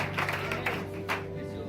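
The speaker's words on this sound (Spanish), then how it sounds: "Un aplauso a este Dios de la gloria." A congregation at a Pentecostal church service bursts into brief, brisk applause, many hands clapping in a dense patter against a steady low hum from the room's sound system.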